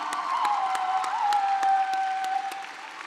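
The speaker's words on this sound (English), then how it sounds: "you need to get up off your feet and stand up and clap your hands for these people" Audience applause fills a graduation ceremony hall at Northwestern State University of Louisiana, a steady dense clapping throughout with a sustained tone running beneath, tapering slightly at the end.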